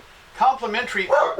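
A pet dog barks and yips a few times in a home, its short, loud bursts overlapping with a person talking nearby.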